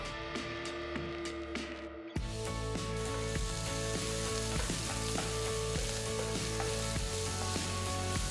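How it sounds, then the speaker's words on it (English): Finely chopped onion sautéing in hot oil with whole cinnamon, cloves, cardamom and three red chilies, a steady loud sizzle that surges when the onion goes in, with occasional stirring clatter and no voices. "Saute the onions till they are nice and brown."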